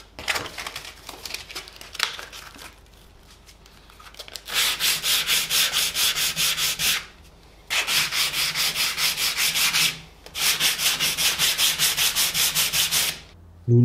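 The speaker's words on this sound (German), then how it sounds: "Und als Schleifgerät verwende ich einen Exzenterschleifer." An eccentric orbital sander works a piece of wood for a DIY band-saw flower vase, running in three long, steady bursts separated by short pauses, loud and close, with some lighter rubbing and handling noise before the first run.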